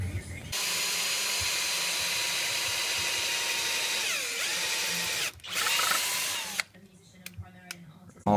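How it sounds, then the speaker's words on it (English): A cordless power drill with a 3/16 bit bores a pilot hole while fitting a frame slider cage on a Yamaha R6, a loud steady whine that dips and slows midway, then stops abruptly near the end. "I'm going to use a 3/16 drill bit and drill a pilot hole"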